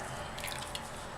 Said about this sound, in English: I'm going to just start pouring out my colors